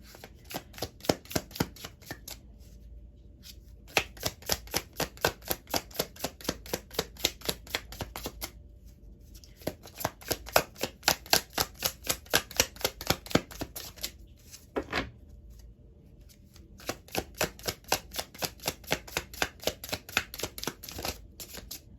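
Tarot cards are shuffled in repeated riffling bursts, rapid crisp clicks in several runs separated by short pauses, close and quiet.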